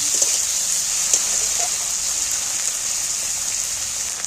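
Tomatoes and onions fry in hot oil in a pan for a lentil and egg dish, a steady loud sizzle with crackling pops that holds constant throughout.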